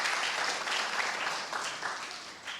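An audience at an international church leadership forum in Sydney applauds missionaries with steady, dense clapping that fills the room and tapers slightly toward the end.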